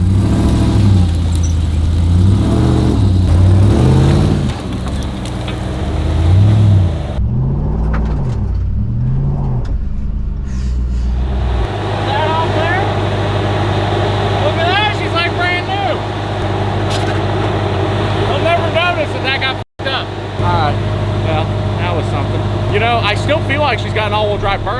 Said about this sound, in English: we're gonna try to pull off a all-wheel drive burnout